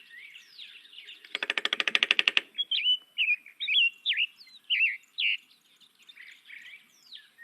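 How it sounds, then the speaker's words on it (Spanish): A golden-fronted woodpecker (Melanerpes aurifrons) in Mexico gives a fast rattling burst followed by a series of short, clear churring call notes, fairly close and alone. "vamos a escuchar un Melanerpes aurifrons, que seguramente muchos de ustedes conocen aquí en México"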